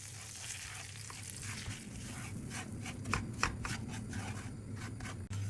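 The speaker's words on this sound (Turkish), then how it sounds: "4 dakika irmiğimizi kokusu çıkana kadar kavuracağız arkadaşlar" Semolina roasting in butter in a pan for irmik helva, a steady close frying hiss with soft stirring scrapes and faint crackles, no voices.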